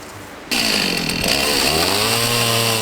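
A chainsaw roars to life after a brief quiet moment, then runs loud and steady cutting firewood at a high country campsite, its engine pitch wavering slightly as it cuts.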